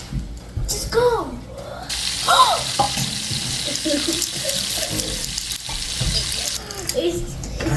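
Water poured from a cup into a baking mixture at home, a splashing trickle that comes and goes in bursts while people talk over it.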